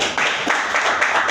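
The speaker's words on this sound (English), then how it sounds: "please a round of applause for the general manager" A short burst of applause at a record label launch event in Lagos, greeting the general manager: dense, steady clapping from a crowd, fairly close and loud, with no voices over it.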